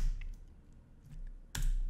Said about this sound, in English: pressing T on the keyboard